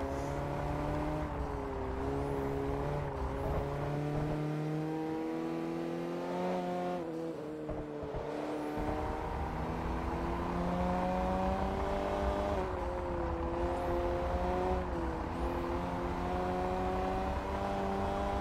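F-class car engine racing in Forza Motorsport 3, a steady droning tone that rises through the revs, dips briefly at shifts and climbs again, continuous and fairly close, with no talking.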